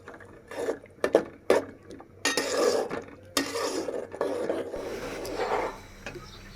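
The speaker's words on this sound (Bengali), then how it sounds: "এখন আমি মশলাটা ভালোভাবে কষিয়ে নিব" A spatula scrapes and rubs against a pan while spice paste of ground coriander and other spices is stirred and fried for a tengra fish curry, in bursts of rasping strokes with short pauses between.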